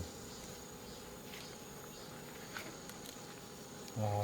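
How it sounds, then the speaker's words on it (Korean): Mosquitoes buzz near beehives as a faint, steady, thin insect drone over quiet outdoor background, with a short dull knock near the end. "모기가 엄청 있네."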